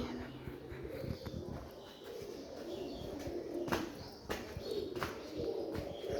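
Pet pigeons coo in soft, repeated low calls at moderate distance, with a few faint chirps and light rustling during a morning feeding.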